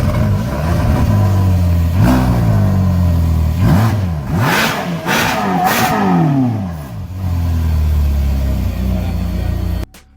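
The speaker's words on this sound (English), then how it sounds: "Do a quick rev." A car engine, on a totaled supercar bought at a salvage auction, revs in several quick rising and falling bursts over a steady idle, loud and close, then cuts off near the end.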